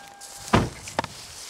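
A car door thuds shut as someone climbs out of a car, followed by a couple of short footsteps or knocks, close and alone with no talk.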